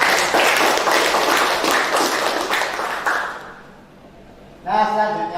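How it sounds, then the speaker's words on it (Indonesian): A classroom of students claps together in a burst of applause for several seconds, dense and lively, fading out before a teacher's voice resumes speaking. "Kita beri aplaus untuk kita."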